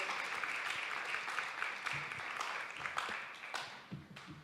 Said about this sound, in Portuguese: Um aplauso aí essa galera